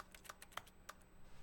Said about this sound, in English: Why is it that when I click or press E, it has typing noises?